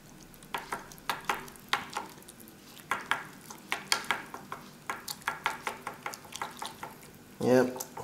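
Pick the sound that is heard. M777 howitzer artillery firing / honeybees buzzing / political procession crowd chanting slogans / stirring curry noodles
stirring curry noodles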